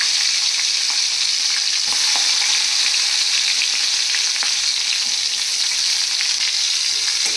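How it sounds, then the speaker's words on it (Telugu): Onion and green chilli pieces sizzle steadily in hot oil left from frying dried fish, a dense, even crackle close up with occasional stirring clicks, no voices. "ఎండి చేపలు వేయించిన ఆయిల్లో ఈ ఉల్లిపాయ పచ్చిమిరపకాయ ముక్కలు వేయంగానే"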